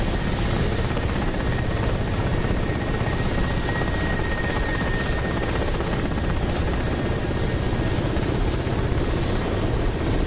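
Helicopter rotor chopping steadily throughout in a combat video game, a dense continuous whir with engine drone that stays loud and unbroken, with no voices.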